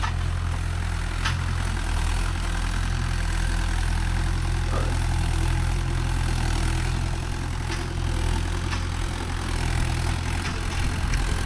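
Mahindra 575 DI tractor engine idling steadily at close range, a continuous low diesel rumble with a constant drone and no voices, from a tractor used with a 9-tine cultivator.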